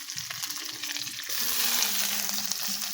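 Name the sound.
frying dried fish with onion and five-spice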